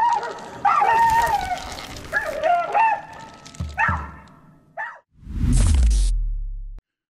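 Several dogs on a road bark in short bursts that rise and fall close by, with a higher yipping call mixed in, then a loud burst of noise closes the clip.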